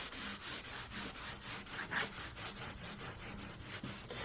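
Umber glaze being rubbed into a painting's surface, a steady close scrubbing and rasping that runs continuously with a slight rhythmic pulse and no voices.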